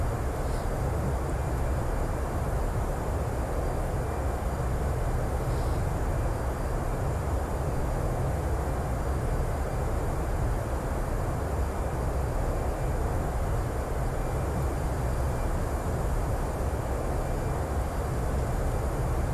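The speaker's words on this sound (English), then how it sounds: "there seems to be quite a few airliners that are flying over us" Steady, broad jet roar from airliners passing overhead in a P3Dv5 flight simulator, a constant loud rumble-and-hiss wash that holds for the whole stretch with no voices.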